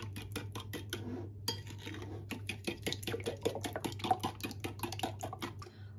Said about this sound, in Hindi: अच्छी तरह फेटेंगे इसमें। शुगर अच्छी तरह इसमें हल हो जाए।